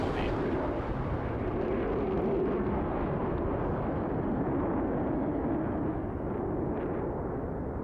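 F/A-18C Hornet low-angle gun strafe in DCS, a dense continuous rumble of cannon shell impacts and explosions that holds steady and loud throughout, broad and roaring with no talking.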